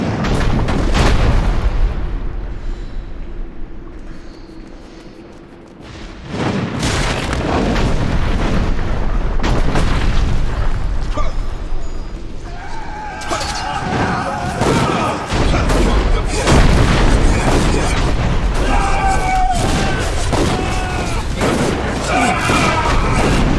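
Cannons fire during a Dungeon Siege III battle, delivering repeated heavy booms and a dense, loud rumble of combat that dips briefly before resuming, with voices speaking over parts of it.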